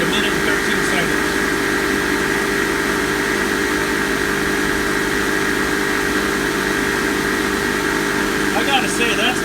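A Fieldpiece MR45 refrigerant recovery machine runs during a water test with a constant, even mechanical drone. Its hum and vibration hold steady from start to finish, close and moderately loud.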